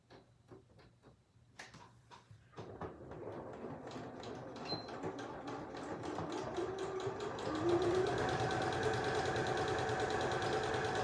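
A sewing machine stitches fabric pieces together for a bag, starting with a few ticks and then running as a steady close mechanical whir that grows slightly louder toward the end.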